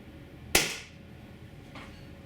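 A single sharp close shot from a Tiberius T9.1 Carbine HPA paintball marker fired over a chronograph, with a fainter second pop about a second later.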